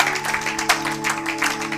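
A church congregation applauding together, a dense, steady patter of many hands clapping throughout, with an organ or keyboard chord held underneath.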